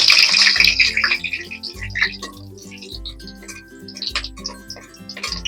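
Batter-coated capsicum chop going into hot oil for frying, a loud bright sizzle at the start that settles into a softer crackle beneath steady background music.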